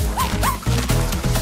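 A puppy gives short, high whimpering yelps followed by a few quick, close barks in a brief, lively burst.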